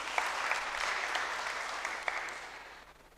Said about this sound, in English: And now clap for yourselves for coming.